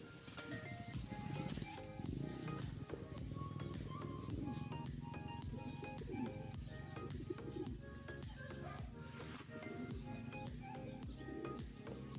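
Racing pigeons coo inside a loft amid continuous fluttering, scuffling and chirps, with a busy, layered background throughout.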